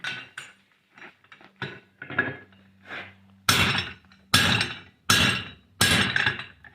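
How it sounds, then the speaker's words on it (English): A blacksmith's hammer forges a steel bar on an anvil for a miner's candle holder: lighter scattered taps and clinks first, then four loud, ringing, evenly spaced heavy blows close by, with no talk. "Every few hits, I'm turning it so it just forges evenly"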